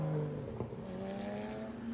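Race cars run on the track at Watkins Glen during a club race, engines droning faintly at a distance with a steady tone that shifts pitch as they roll on.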